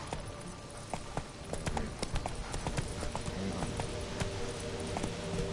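Hooves of Roach, the horse in The Witcher 3, clop in a steady trotting rhythm of sharp, close strikes over a soft, continuous background bed.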